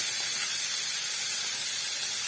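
Corn being sautéed in a hot pan for a kids' lunch box recipe gives a steady, even sizzling hiss throughout, close and moderately quiet, with no talking.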